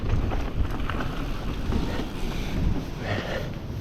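Wind on a dry, windy day at an outdoor mountain-bike jump park, a steady rumbling buffet against the microphone with gusty surges and no talk.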